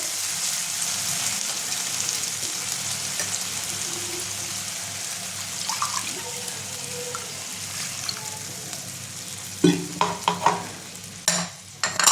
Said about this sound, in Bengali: পেঁয়াজটা আমি হালকা লাল করে ভেজে নিয়েছি। এবার আমি মশলা পেস্টটা দিয়ে দেবো।